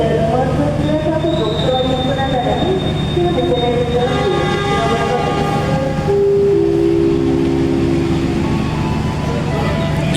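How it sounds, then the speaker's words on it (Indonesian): A commuter train rumbles steadily close by as it departs Wonokromo station, with a low engine drone, metallic squeals and ringing tones rising over the din as it moves off. "mengabadikan momen kereta api komuter lain Cupas akan diberangkatkan dari stasiun Wonokromo"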